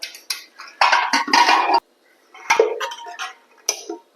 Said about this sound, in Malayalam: നമുക്ക് കുക്കർ ഒന്ന് തുറന്ന് നോക്കാം